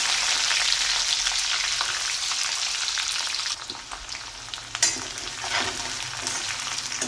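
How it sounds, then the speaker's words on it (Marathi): Onion with curry leaves frying in hot oil in a pan, a loud continuous sizzle up close that briefly dips and then resumes with a few stirring clatters. "कांदा मस्त थोडा परतून घेऊ"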